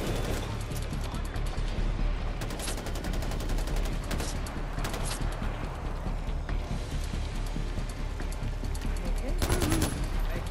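Rapid gunfire bursts from a firefight in Far Cry 4, loud and dense, with sharp volleys cracking over a constant busy game soundscape and scattered voices.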